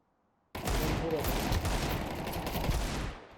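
A dense burst of automatic gunfire from a Counter-Strike 2 match roars in abruptly and continues loud and sustained for about three seconds before cutting off, with a voice faintly under it.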